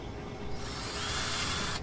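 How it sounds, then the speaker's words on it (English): A power drill with a 3/16 inch bit whirs continuously at high pitch while drilling a hole, running steadily for a couple of seconds, close and fairly loud, then cuts off. "I'm using a 3/16 drill bit."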